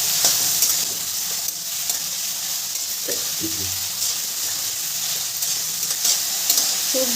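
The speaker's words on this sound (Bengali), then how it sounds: "সবজিগুলো একটু ভাজা ভাজা করে নেব" Vegetables sizzling in a pan while being stirred: continuous frying hiss with occasional scraping and clinking strokes of the spoon, close up and steady.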